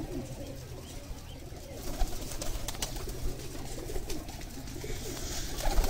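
High flyer pigeons coo softly in low, repeated murmurs amid rustling and scattered bird noises close by.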